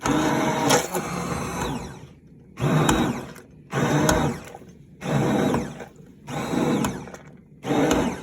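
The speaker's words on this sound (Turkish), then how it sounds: "Şimdi ocağı kapattım ve blenderdan çekmeye başlıyorum." A blender purees cooked tomatoes, whirring in six loud bursts, each a couple of seconds long, separated by short pauses, with no talking.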